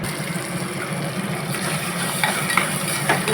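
Ground tomato chutney gets stirred in a pan over the stove, a soft steady scraping and low sizzle running continuously with a few faint clinks, no voices.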